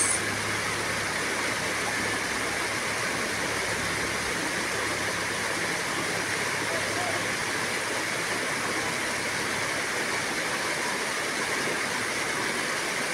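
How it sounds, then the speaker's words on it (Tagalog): Stream water at Maragusan rushes in a constant, even roar, steady and unbroken throughout with no voices. "maminaw daw sa tingog daw sa sapa, sa tingog sa tubig"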